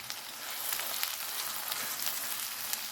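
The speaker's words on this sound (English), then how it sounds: "in the same pan, let's add in the peas. Lower the heat and cook the peas" Peas cooking on low heat in a non-stick pan, giving a soft, steady sizzle with faint crackles throughout.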